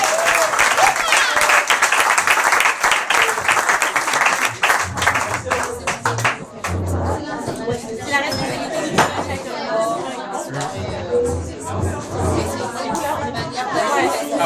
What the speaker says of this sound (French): Est-ce qu'on peut applaudir Pasteur Thierry?